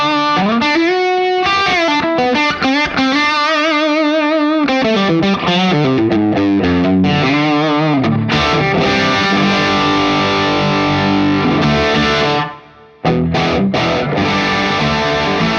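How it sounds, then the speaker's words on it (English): Electric guitar played through a Soldano SLO-30 amp on its high-gain distortion channel with the bright switch off, loud saturated riffs and sustained chords filling the whole stretch, with a brief drop to near silence before playing resumes, no talk. "You're ready to go to the high gain distortion side."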